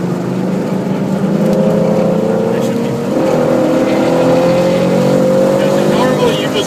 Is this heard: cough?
no